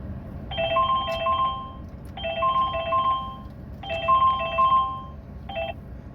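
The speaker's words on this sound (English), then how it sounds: "Annoying phone calls." A phone ringtone sounds nearby in four repeated bursts of a bright electronic melody, the last one cut short, over quiet outdoor background noise.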